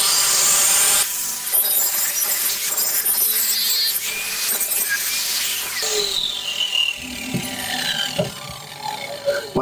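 Wooden concrete formwork is cut by hand, with close, loud rasping and scraping strokes, scattered knocks and creaks, and a brief sharp crack partway through.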